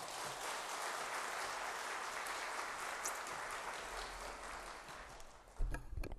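A church congregation claps to welcome the pastor to the pulpit, a broad, continuous wash of applause heard from a distance that tapers off near the end before a few louder close knocks.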